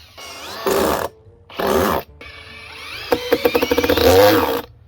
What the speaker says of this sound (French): je galère à visser comme ça